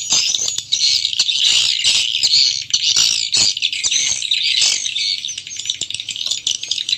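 Dense, continuous chirping and twittering of swiftlet calls, loud and steady, with repeated sharp clicks, two stereo call tracks played through speakers.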